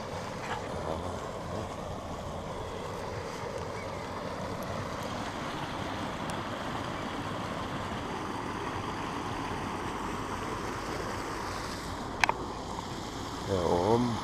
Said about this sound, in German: Hier ein Teil des Mühlbaches.